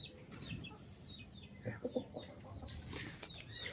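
Hens cluck softly inside a coop, with a quick cluster of close clucks midway and a few thin high chirps afterward over quiet background rustle.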